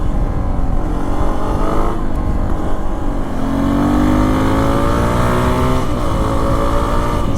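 A 250F dual sport motorcycle engine holding a wheelie, a loud, steady droning roar with the pitch gently rising and falling, close and continuous, with no talk.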